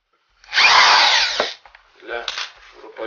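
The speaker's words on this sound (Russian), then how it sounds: "полезная вещь, выдувает стружку с места сверления" A cordless drill fitted with a chip-blowing attachment drills into material, a loud steady whir for about a second that winds down, followed by a shorter, quieter burst of drilling.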